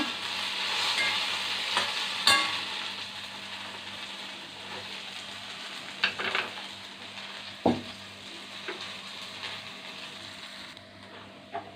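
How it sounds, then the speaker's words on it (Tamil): Okra sautés in a little oil in a pan, a gentle continuous sizzle with occasional sharp clinks and scrapes of a utensil against the pan, close by, no talking. "இப்போது வெண்டைக்காய் நல்லா வதங்கிடுச்சு"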